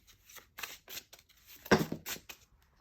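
A large tarot deck is shuffled by hand in soft, irregular papery riffles and slides, quiet and close, with one louder flutter near the middle and no talking.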